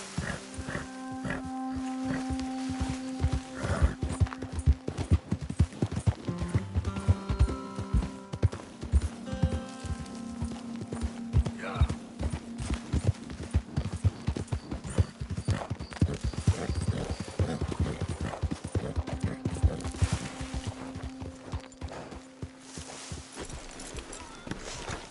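A horse's hooves galloping in the Red Dead Redemption 2 video game, a fast, loud, continuous clip-clop pounding with a few faint snorts and background tones.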